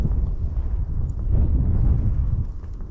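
Strong wind buffeting a microphone on a canal bank, a loud, continuous low rumble that swells and eases, close with no voices.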